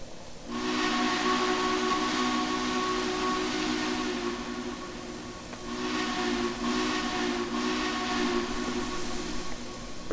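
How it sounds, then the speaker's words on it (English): A long, steady steam whistle blast with a breathy hiss, dipping briefly then sounding again, loud and unbroken with no talking, from a Union Pacific TTT-6 2-10-2 locomotive in the Trainz 2019 video game. "pretty decent sounding whistle"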